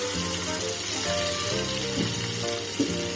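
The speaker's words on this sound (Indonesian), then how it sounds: "lalu kita tumis bumbu yang udah kita haluskan tadi" Ground spice paste sautéing in hot oil gives a soft, steady sizzle for a few seconds, with a small clink near the end, set under faint tonal background music.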